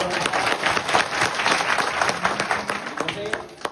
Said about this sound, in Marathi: महाराज बोलतो टाळी वाजवा